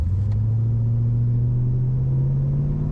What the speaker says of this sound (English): Let's see how it accelerates.